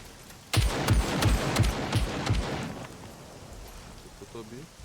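A rapid burst of gunfire in the video game SCUM rattles in quick succession for about two seconds, then fades, followed by a brief electronic warble.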